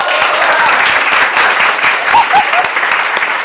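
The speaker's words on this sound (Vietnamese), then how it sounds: "Giờ vỗ tay cho cô cái này ra đã." Audience applause at a talk on health and staying young, a steady dense wash of many hands clapping throughout, with brief faint voices rising over it.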